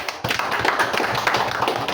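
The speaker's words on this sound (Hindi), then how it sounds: "अब ताली बजाओ उसके लिए" Students in an electronics class clap for a classmate, quick scattered handclaps with crisp individual strikes, a short burst of a couple of seconds at moderate level.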